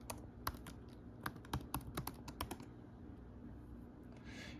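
Typing on a computer keyboard while logging in to a Garmin 530 avionics unit in a twin Cessna 414: a brisk run of close, crisp key clicks for about three seconds over steady background hum, then quiet.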